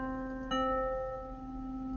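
An electric piano set to a Fender Rhodes sound plays a single sustained chord that rings on with a soft attack, clear and close, with no voices over it.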